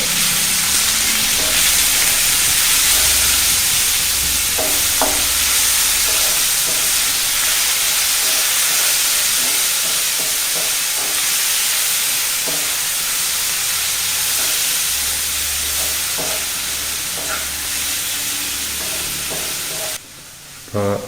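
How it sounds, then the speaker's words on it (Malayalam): Onions for Indian Coffee House–style masala dosa filling sauté in a pan with a loud, continuous hiss and sizzle, broken by scattered clinks and scrapes of stirring, with no voices. "സവാള ഒരുമാതിരി വഴന്ന് കിട്ടിയിട്ടുണ്ട്"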